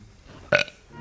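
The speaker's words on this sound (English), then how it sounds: "someone that could burp like this" A single loud, short burp, close and abrupt, in an otherwise quiet moment.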